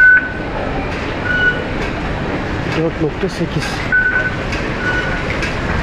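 Steady rumbling and rattling of a Hong Kong metro train in motion, with a few short electronic beeping tones sounding over the noise.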